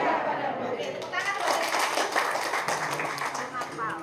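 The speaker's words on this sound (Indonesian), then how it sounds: "Oke, tepuk tangan." A room of teachers claps their hands together at a school workshop, a dense, steady patter of many palms lasting several seconds, with children's voices and chatter mixed in underneath.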